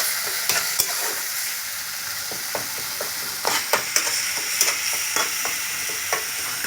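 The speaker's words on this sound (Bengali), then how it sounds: "এইভাবে নাড়তে থাকবো, সবসময় নাড়ানাড়ি করতে থাকবো যাতে কড়াতে লেগে না যায়।" Spices fry in a kadai with a steady sizzle while a spoon or spatula scrapes and stirs in repeated sharp strokes, close and clear, with no talking.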